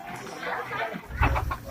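A hen clucks close by at a farmyard coop where a snake has attacked the chickens, giving short throaty calls over a low background rumble.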